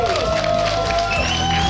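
A crowd at a combat arms competition grand final claps and cheers loudly, with whoops over the applause and a tonal sound running through it.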